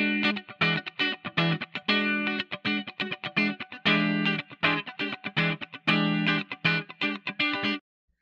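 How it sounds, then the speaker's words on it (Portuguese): Electric guitar with a distorted, effected tone playing a fast, choppy rhythmic riff of short repeated chords, loud and alone, stopping abruptly near the end. "Esse é o som de guitarra."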